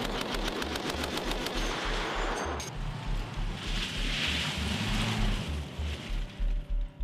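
Mounted weapons firing from a JLTV military vehicle, with rapid machine-gun bursts in a fast steady rhythm, then heavier booming shots that echo, loud and dominant, with no voices.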